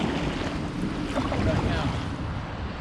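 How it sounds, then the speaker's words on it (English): Fast-moving river water rushing past as a broad, constant roar, loud and close, with wind buffeting the microphone and no voices. "Fast moving water today"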